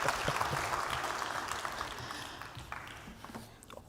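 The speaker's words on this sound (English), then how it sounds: "a warm round of applause, please, for my co-host" A conference audience at the Access Bank Africa Trade Conference gives a warm round of applause for the returning co-host, Nzinga Qunta. The dense clapping starts strong and gradually thins and fades out.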